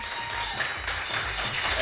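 An audience claps and cheers for a comedy show host, a dense, close burst of applause mixed with voices that carries on without a break.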